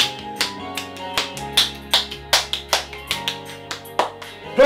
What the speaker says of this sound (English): Clap those quavers.